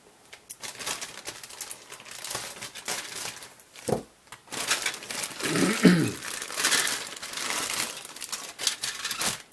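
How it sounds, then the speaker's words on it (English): A plastic parts bag from an AMT 1:25 scale 1959 Chevy El Camino model kit is torn open. Close, busy crinkling and rustling comes in uneven bursts, with a few sharper tearing snaps and no talking. "Let me go ahead and get into this bag here"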